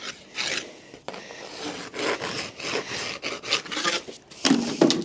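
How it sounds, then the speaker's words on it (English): A farrier's rasp scrapes back and forth across a horse's hoof in close, steady rhythmic strokes, smoothing the surface with short pauses between passes. "And now it's just getting all the rasp marks out, more like your presentation,"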